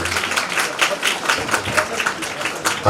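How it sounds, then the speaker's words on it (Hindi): Audience applause for two guests at an annual function, heard as fairly close, uneven clapping with distinct individual claps in a loose rhythm. "जोरदार तालियां हमारे दोनों ही अतिथियों के लिए"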